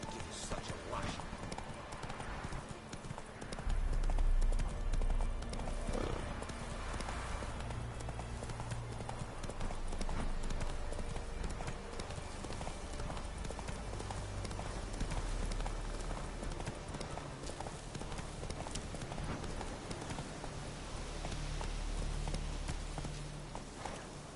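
Roach, the horse in The Witcher video game, gallops with fast, steady hoofbeats throughout, set against continuous game ambience.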